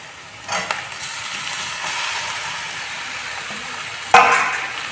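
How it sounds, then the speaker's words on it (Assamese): Mutton and potatoes fry together in a pan with onions for a mutton curry, a steady close sizzle with a few stirring knocks and a sharper burst of hissing near the end. "এতিয়া মই মাংস আৰু আলুখিনি একেলগে ভাজি ল'ম।"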